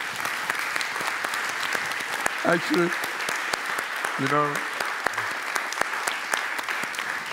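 Audience applause at a Brain Bar talk, a sustained dense patter of clapping throughout, with someone briefly speaking over it partway through.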